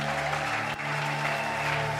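A church congregation applauds and acclaims together, a dense steady wash of clapping running without pause over a sustained organ or keyboard tone.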